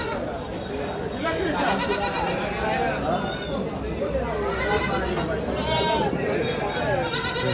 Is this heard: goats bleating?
yes